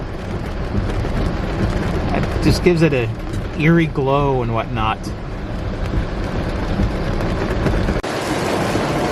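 Pouring rain while driving through an old cemetery: a constant broad hiss of rain and road noise fills the cabin as someone talks over it.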